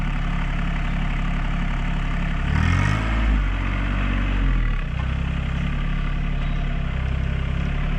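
A compact tractor's engine idles and rumbles steadily nearby during garden soil levelling, with a brief rise in revs midway before settling back to a constant low drone, no speech over it.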